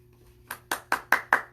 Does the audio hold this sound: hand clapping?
yes